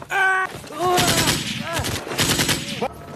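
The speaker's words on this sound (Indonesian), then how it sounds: "Suara ricuh membuat pasukan panik dan menembak secara membabi buta" Panicked troops firing blindly, bursts of machine-gun fire crackling beneath a narrator's voice and tonal music, loud and dense through most of the stretch.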